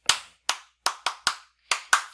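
A small group gives a quick victory cheer of handclaps: seven sharp, separate claps in an uneven rhythm, close and clear with silence between them and no talking.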